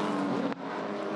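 A touring car engine screams at high revs from onboard during a race at Hidden Valley, with the note briefly cutting out and stuttering as it bounces off the rev limiter.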